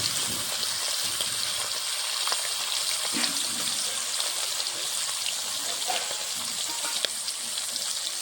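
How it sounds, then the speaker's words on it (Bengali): A fish head seasoned with salt and turmeric fries in hot oil in a wok, giving a loud, steady, close sizzle with faint crackles and occasional stirring clatter throughout. "আমি এখন মুড়োটা ভেজে নেব।"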